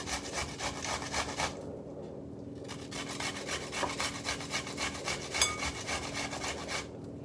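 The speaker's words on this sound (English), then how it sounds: "I am very quickly grating the onion." An onion is grated quickly by hand in a home kitchen, making fast, rhythmic rasping strokes that repeat steadily and close up, with short pauses; no voices.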